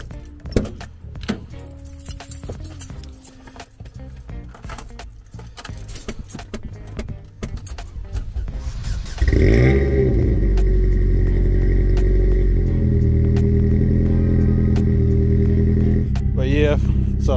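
Cold start of a supercharged four-cylinder SUV: keys jangle and clatter, then the engine cranks and catches around the middle, settling into a loud steady idle with a whining rise near the end.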